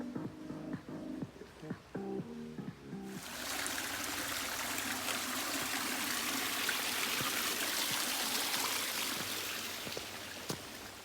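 Water rushes in a steady broadband roar, a creek flowing close by that swells in after a few seconds of quieter clatter and stays loud.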